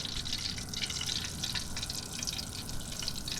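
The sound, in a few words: floured chicken frying in oil on a Blackstone griddle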